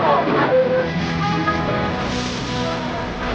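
Hong Kong MRT train, a steady broad hiss and rumble of the ride that holds for a few seconds, fairly loud and even, with no clear speech.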